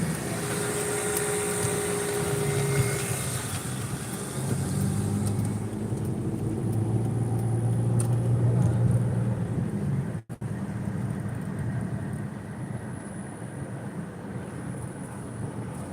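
Road traffic heard from inside a car in heavy, bunched-up traffic, a steady broad rumble of engines and tyres with passing vehicles swelling and fading.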